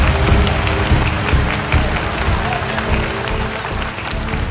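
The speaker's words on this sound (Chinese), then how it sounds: "我们掌声请出金飞晨曦来到这个舞台。" A theatre audience at a crosstalk comedy competition applauds as performers are called onto the stage, a dense and loud burst of clapping that is sustained throughout, with voices mixed in.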